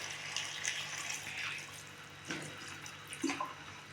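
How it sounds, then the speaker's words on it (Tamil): Water poured into chicken masala while cooking country chicken fry, a soft trickling splash with a few louder gurgles, fairly faint and close. "தேவையான அளவு தண்ணி ஊற்றிக்கலாம்."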